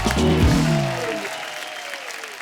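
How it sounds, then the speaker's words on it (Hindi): Studio audience applause on The Kapil Sharma Show, a broad burst of clapping that fades out gradually, with a voice speaking over the start. "जोरदार तालियां एक बार"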